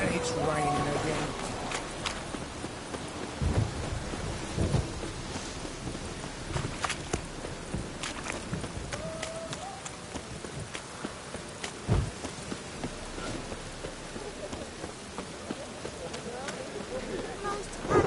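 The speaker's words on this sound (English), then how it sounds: "It's raining again." Steady rain patters over the game world of The Witcher 3, with scattered low thunder rumbles and footsteps, while characters talk at intervals over the downpour.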